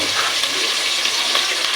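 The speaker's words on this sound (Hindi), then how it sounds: "यानी कि हम गोभी को ऐड करेंगे इसमें।" Cauliflower pieces dropped into spices frying in hot oil, giving a steady loud hiss and crackling sizzle that holds evenly throughout.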